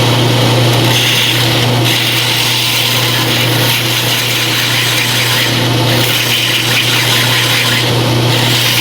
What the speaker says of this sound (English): Now we'll put a little bevel on the edges.